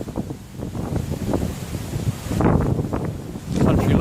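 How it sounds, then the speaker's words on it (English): Strong wind buffets the microphone outdoors in the countryside, a continuous rushing roar with gusts that swell louder toward the end, heard alone without speech. "I hope you can hear alright over this wind that is everywhere and is"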